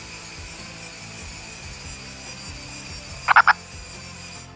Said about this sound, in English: Purple frog is one of the many species of frogs.